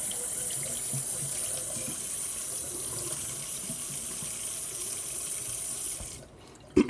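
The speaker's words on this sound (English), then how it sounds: "Just gonna wash this spoon out." A tap runs steadily into a sink while a spoon is washed, a continuous close water rush that cuts off near the end with a small clatter.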